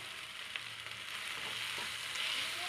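Garlic paste frying and being stirred in a pan for vegetable puff filling, a steady close sizzle with soft scraping of the stir, no voices.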